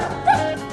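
A single short dog bark or yip, close and fairly loud, sounding once within a brief moment.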